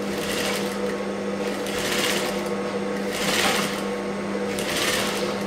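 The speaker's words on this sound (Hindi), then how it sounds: "पूरी तरह हम लोग सिलाई मार लेते हैं।" A sewing machine runs steadily, stitching golden piping onto a blouse, with a close, continuous mechanical whir that swells slightly in bursts and no pauses.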